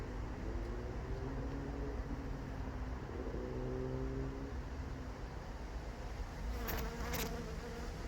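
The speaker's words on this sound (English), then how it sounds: "There are a lot of bees in here," Honeybees buzzing in an open beehive, a dense, steady drone of many wings with shifting hum tones, continuous and close, with faint background noise and no speech.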